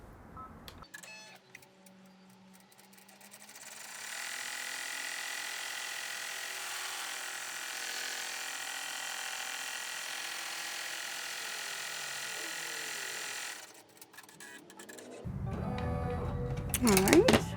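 An in-the-hoop embroidery machine stitches the final tack-down on a cash card zipper pouch, a steady high mechanical whir running about ten seconds close by, framed by quieter handling noise and brief clatter at the end.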